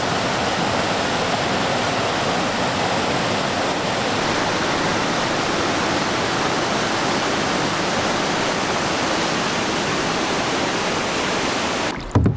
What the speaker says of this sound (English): Sort of like a waterfall of sorts